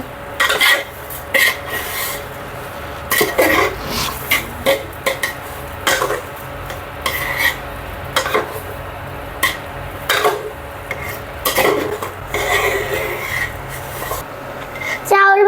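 A spoon stirring khichuri in a cooking pot, repeated scraping and clinking strokes in an irregular rhythm, close and fairly loud over a soft background hiss.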